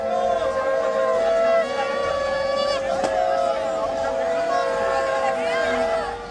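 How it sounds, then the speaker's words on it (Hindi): Conch shell blown amid a large crowd at a BJP road show in Bolpur, West Bengal: long sustained harmonic blasts with rising and falling pitch over roughly six seconds, loud above steady crowd babble. "जहां कभी शंखनाद किया गया"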